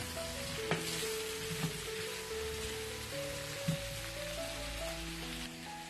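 Eggplant and potato sabzi with curry leaves sizzling in a pan as it is mixed, a steady soft crackle with occasional spoon knocks and stirring scrapes, no talking.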